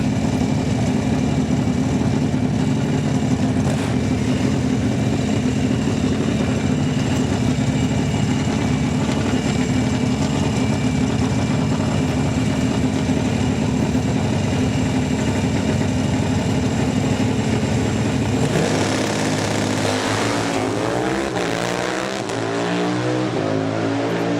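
Buell and Harley Sportster drag racing motorcycles rumble loudly at the start line, a sustained throbbing engine roar that rises into revving near the end.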